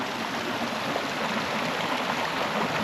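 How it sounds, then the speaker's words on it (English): A small creek swollen after rain rushes past close by, a loud, steady broadband water roar with no voices over it. "even with the small creek right here flowing and being pretty loud, as you can hear"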